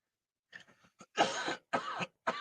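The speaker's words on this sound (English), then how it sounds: "So what time I should be happy about this stupid cough?" A person with a cold coughs several times in quick succession, starting with small throat-clearing hacks and building to louder, harsh bursts, close to the microphone in a quiet room.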